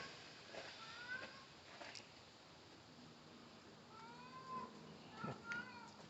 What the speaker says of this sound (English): I know y'all hear this cat talking right here